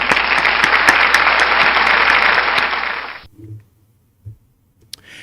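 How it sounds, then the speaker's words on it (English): Loud applause from an audience at a board meeting, dense steady clapping for about three seconds, then cutting off abruptly into near silence with a few faint thumps. "let's give them a round of applause"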